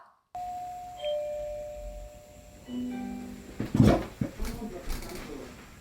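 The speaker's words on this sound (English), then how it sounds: "You heard the doorbell ring." A doorbell chimes, its tones ringing out in a quiet room, followed by soft knocks and a few scattered clatters.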